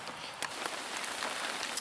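Cold rain and wind beating on a tarp at a stealth campsite, a dense steady patter with a few sharper drops close overhead, no voices.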